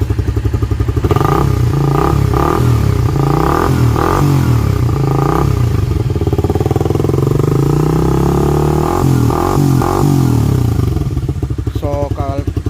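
A Suzuki Raider 150 Fi street motorcycle with an aftermarket pipe revs loudly and close by, its idle burbling between a series of sharp throttle blips.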